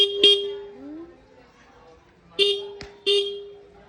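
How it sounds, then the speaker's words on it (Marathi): A vehicle horn honks in short toots, one early and two more close together near the end, each loud and near with a bright buzzy tone, quiet traffic in between. "आपली भाभी मान नुसते हॉर्नच वाजवत होती"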